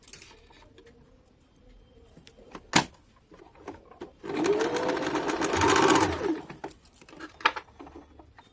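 A sewing machine stitches a loose plazo, running in a steady close whir for a couple of seconds amid sparse clicks and handling taps of the fabric.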